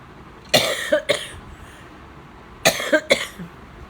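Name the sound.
coughing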